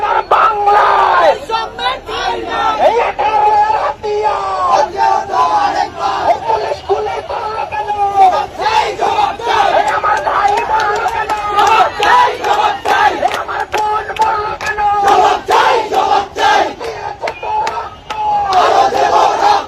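A large protest crowd in Panchagarh, Bangladesh chants slogans in unison, the loud rhythmic call-and-response of many voices filling the street continuously and close.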